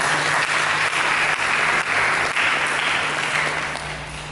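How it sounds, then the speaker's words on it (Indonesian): A church congregation breaks into sustained, dense applause during a sermon, a steady wash of clapping that holds at full strength before easing off slightly at the end. "Berikan tepuk tangan."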